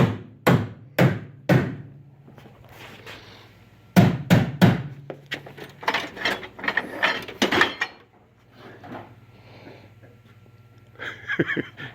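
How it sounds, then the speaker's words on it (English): Sharp metal hammer blows strike a truck tailgate latch: three evenly spaced hits, a pause, then a quick burst of strikes followed by scattered knocking and clanking, ringing with a steady background hum. "I got a bigger hammer over here"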